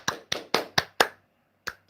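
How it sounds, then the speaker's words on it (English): Hand clapping by a single person, five sharp, close claps in quick even rhythm, a short pause, then two more, with no talking over them. "Clap, clap, clap"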